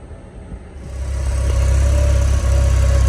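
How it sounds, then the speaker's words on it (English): A car engine idles steadily and close by, joined partway through by a rising whoosh as a radiator fan kicks on and holds a constant hum over the engine. "Okay, so car's been idling for a good amount of time."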